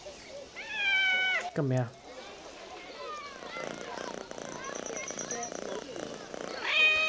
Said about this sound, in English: here you can see I can pet this cat, can't I?